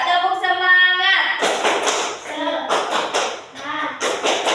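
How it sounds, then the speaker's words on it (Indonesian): A group claps the Indonesian spirit clap in a rhythmic pattern of sharp bursts, with voices chanting in unison before and between the claps, close and lively. "1, 2, 3, tepuk semangat."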